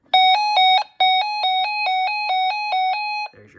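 A 2003 Radio Shack 12-259 weather radio sounds its alert test tone: about a dozen loud, even, bell-like beeps in a steady rapid rhythm, then a brief bit of noise as it stops.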